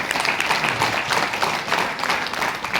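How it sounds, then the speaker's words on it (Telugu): A big round of applause from an audience of attendees welcoming newcomers: dense, steady clapping from many hands at moderate volume, sustained throughout without a clear fade. "మీ అందరికి ఒకసారి బిగ్ రౌండ్ ఆఫ్ అప్లాజ్ అండి"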